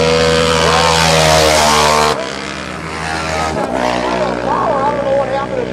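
Dirt bikes race around a motorcycle TT track in Macomb, engines roaring loud and close with a sharp change in pitch as machines pass, under continuous race commentary.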